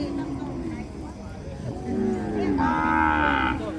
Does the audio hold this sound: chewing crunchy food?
no